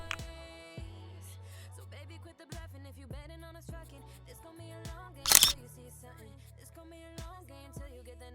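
A camera shutter clicks once during a DIY home self-portrait photoshoot, a single sharp snap that stands out briefly over steady background music.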